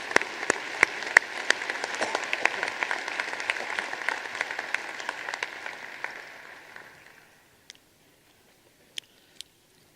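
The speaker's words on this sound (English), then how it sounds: "Let's have a round of applause for the help of all of our marshals" Applause for student marshals at a university fall commencement ceremony, a dense crowd clapping steadily in a large hall for several seconds before tapering off into near silence with a few scattered claps.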